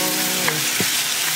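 Onions frying in a pan with ginger-garlic paste just added, part of cooking a dhaniya rui fish curry; a steady close sizzle with a soft stirring knock partway through.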